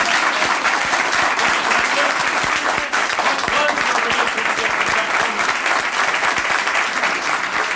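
Loud, sustained applause from an audience fills the scene with dense, steady clapping at close range, continuing without a break.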